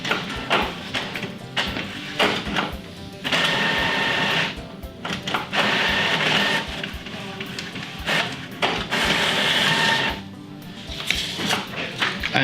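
An Epson WF-5110 printer set up for sublimation runs a nozzle check: loud mechanical whirring in bursts of a second or two, broken by clunks, taps and brief pauses, continuing for over ten seconds.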